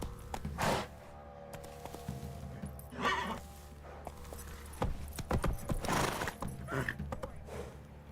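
Roach, Geralt's horse in The Witcher 3, clopping hooves and snorting whinnies in a quiet outdoor setting, several bursts of neighing and stepping spread across the stretch at a moderate distance, with faint tack jingling.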